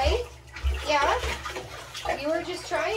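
Children splashing in a shallow bathtub with about two inches of water, bright sloshing close by under an adult's and a voices.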